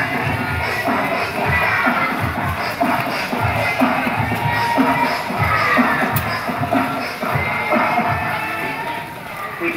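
A large crowd gathered at a mosque for the evening fast-breaking claps together while shouting and cheering. Children's voices are mixed into a loud, continuous din of clapping and cries.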